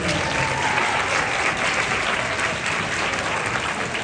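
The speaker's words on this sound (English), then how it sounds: "Give a big round of applause to our sophomores." An audience at an awards ceremony at Essex County College in Newark applauds the sophomores, a sustained, even roar of many hands clapping at moderate loudness from start to finish.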